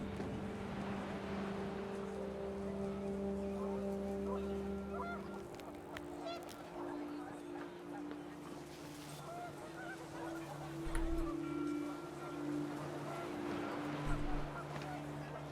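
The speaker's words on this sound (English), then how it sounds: "The wind picked up, and panicked geese appeared and quickly went." Excited, panicked honking from a flock of geese in the game What Remains of Edith Finch, layered over a steady engine-like drone and rising wind, with a couple of low thumps near the end.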